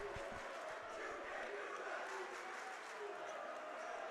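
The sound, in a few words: basketball student section crowd cheering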